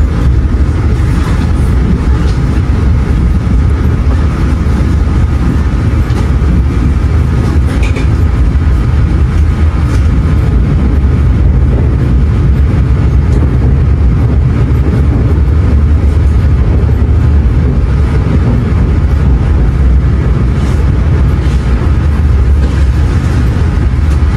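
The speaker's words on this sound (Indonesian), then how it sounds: "kereta api Gajah Wong memasuki tujuan akhirnya stasiun" Gajah Wong passenger train pulling into Lempuyangan station, a loud, steady rumble of wheels and engine filling the whole stretch without letup.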